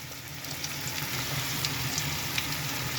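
Fish fries in a pan with a steady, even sizzle and faint crackling pops, moderately close and continuous, with no talking.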